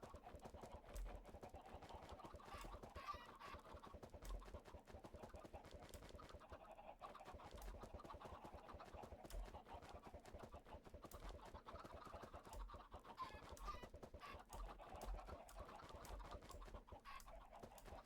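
Chickens clucking and cooing on a video-game farm, a steady low flock chatter running throughout at moderate level with no talk over it.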